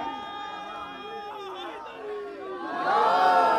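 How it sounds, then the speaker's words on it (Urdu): A crowd at a Shia Muharram religious procession with taboot and alam raises voices together, a loud mass of shouting and chanting that swells louder near the end, with scattered voices and chatter underneath. "نعرے"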